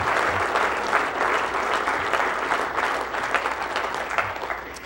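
Steady, sustained applause from a lecture audience at a university executive lecture, dense clapping filling the room at even loudness throughout without a break.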